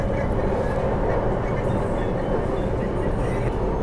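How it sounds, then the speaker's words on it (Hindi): Delhi Metro train running at speed, heard from inside a moving carriage as a steady, loud rumble of rail and motor noise throughout, with no distinct passing event. "मेट्रो जा रही है वापसी,"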